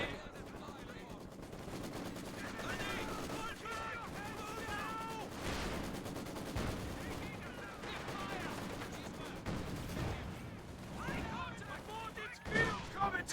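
Gunfire from Company of Heroes 2, a dense stretch of rattling machine-gun bursts and scattered shots mixed with game voices shouting orders, ending with a few sharper cracks.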